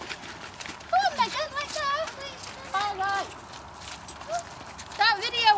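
Hooves clip-clop at a steady walking pace while several people, including children, chatter over them.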